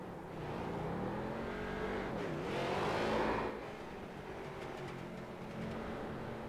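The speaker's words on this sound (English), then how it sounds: "Matt Bear and Blake Wynn will pose for the camera here today, doing some synchronized burnouts for the fans." Two Pro Street Stock race cars perform synchronized burnouts on grass, their engines roaring loudly in a sustained rev that swells near the middle before settling into a steady drone.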